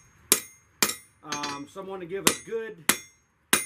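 Sharp ringing hammer blows on metal at a forge come in a slow, evenly spaced series, close and loud, with someone talking briefly between strikes.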